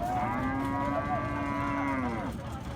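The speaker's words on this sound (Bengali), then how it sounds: "এটা এক নম্বর গরু" A Sahiwal bull on a farm lets out one long, close moo lasting about two seconds, rising and then falling, over a low background rumble.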